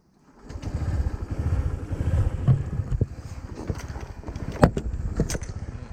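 A Honda PCX scooter fitted with a DCK box rides off, its engine note rising and rumbling under wind buffeting, with a few sharp knocks, heard up close without speech.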